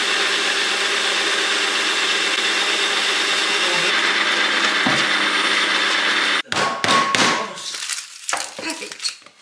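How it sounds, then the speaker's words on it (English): A Ninja Creami ice cream maker grinds loudly and steadily for about six seconds, then stops abruptly, followed by clattering handling noises and brief movement sounds. "If you have a Ninja Creamy, you know how freaking loud this is gonna be."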